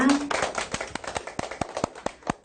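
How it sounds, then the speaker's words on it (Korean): A small group claps to open a Chinese language lesson, a run of distinct hand claps settling into a fairly even rhythm, close and crisp, with a brief voice at the very start. "네, 박수로 시작해 보겠습니다."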